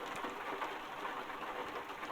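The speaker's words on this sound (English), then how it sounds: "it's pouring down rain again" Heavy rain pours over a truck in Euro Truck Simulator 2 at sunset, a dense, constant wash of noise heard alone.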